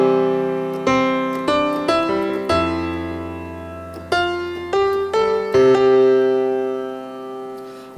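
Solo piano with a right-hand melody line over left-hand chords, notes ringing and sustaining in a slow, gentle improvised phrase, close and clear without talking.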